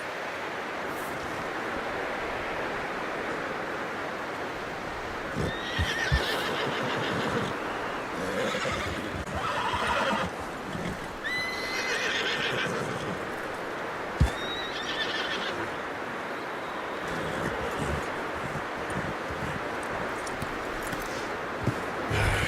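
A horse in Red Dead Redemption 2 neighs and whinnies several times, clear and close, while hooves clip-clop steadily beneath it against an outdoor wind-like ambience.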